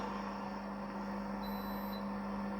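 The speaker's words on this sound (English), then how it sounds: "It doesn't stop, it keeps pumping water." A Philips HI5918 steam generator iron's pressure pump drones steadily, pumping water, a faint continuous hum that does not stop.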